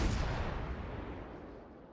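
A naval gun salvo fires from the cruiser Marblehead in World of Warships, a heavy booming blast up close that decays over two seconds into a fading rumble, with no voices.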